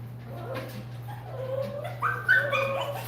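An 8-week-old Rottweiler puppy whimpers and yips close by in a kennel, thin rising whines over a steady low hum.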